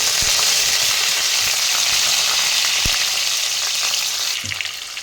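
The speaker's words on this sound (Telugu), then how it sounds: "ఆనియన్స్ అయితే వేసుకుందాం అలాగే కరేపాకు వేసుకుందాం" Onions and curry leaves fry in hot oil for a fish curry, a loud steady sizzle with occasional stirring knocks, easing off near the end.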